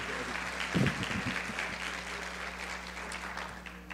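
An audience at a conference on access to adapted justice applauds to welcome a speaker, soft steady clapping with a few louder claps near the start, with a faint voice underneath.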